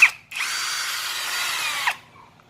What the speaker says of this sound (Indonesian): Ini untuk mengebor, dan ini untuk skrup ya,